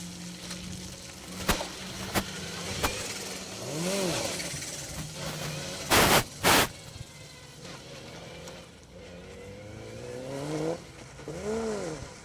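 Rally cars race along a stage at the Snetterton Stage Rally 2024, engines revving and changing gear as they pass with rising and falling pitch, loud sharp bursts mid-way and another car sweeping by near the end.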